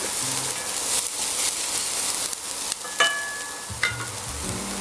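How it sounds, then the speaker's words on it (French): Onions fry and brown in a pan with other vegetables for braised veal à la provençale. A steady hissing sizzle carries throughout, and a few sharper scrapes and clinks mark stirring. "là les oignons commencent à colorer"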